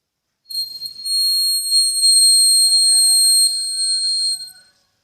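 A homemade whistle made from a bamboo leaf stem is blown in one long, shrill, piercing tone lasting about four seconds, close and loud with a slight wavering pitch.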